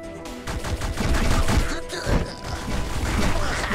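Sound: gun firing a burst in the video game Sleep Tight

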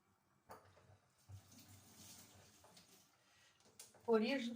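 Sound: water being poured into a cooking pot

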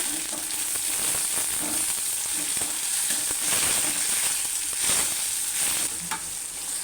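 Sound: onions and tomatoes being stirred and sizzling in a pan

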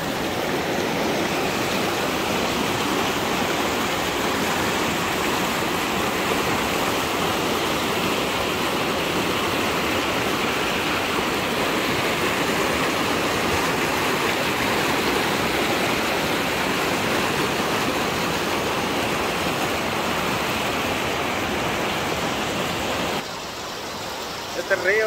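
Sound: river flowing in North Carolina near Tennessee

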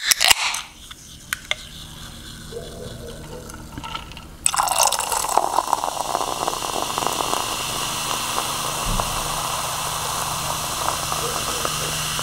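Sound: pouring drink over ice

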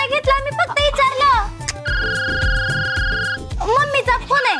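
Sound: telephone ringing, incoming call from mom

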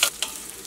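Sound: shallots frying in a pan

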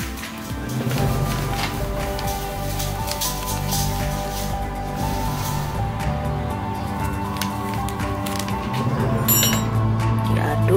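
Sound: stirring batter in a bowl

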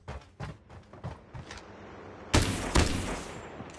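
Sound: gunfire in video game Call of Duty Mobile

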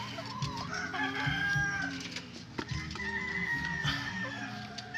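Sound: White Leghorn chickens clucking

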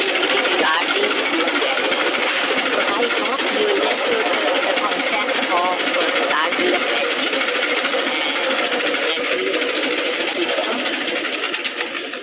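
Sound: tractor or car engine cranking and running

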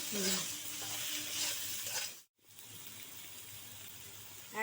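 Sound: stir-frying fish head and spices in a pan

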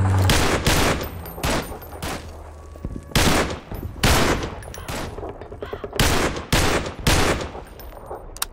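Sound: gunfire in Garry's Mod WW2 video game

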